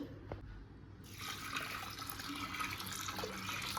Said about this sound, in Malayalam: പരിപ്പ് വേവാൻ ആവശ്യമായിട്ടുള്ള വെള്ളം ഒഴിച്ചു കൊടുക്കാം